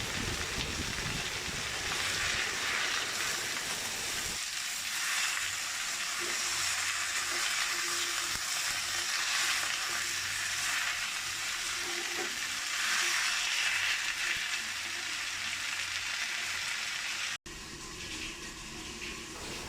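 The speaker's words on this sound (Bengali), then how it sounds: "আমি পাট শাকটা দিয়ে দিচ্ছি কড়ায়, দিয়ে ভালো করে ভেজে নিচ্ছি" Jute leaves frying in oil in a kadai make a loud, continuous sizzle that goes on with stirring and rustling. A low hum sits underneath, and near the end the sound drops out briefly before it comes back.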